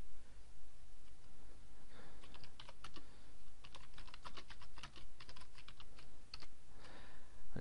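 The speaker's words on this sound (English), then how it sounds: "Let's just type it in here." Fast, irregular keystrokes on a computer keyboard in bursts of quick clicks, close and clear, with short pauses between runs and no one talking.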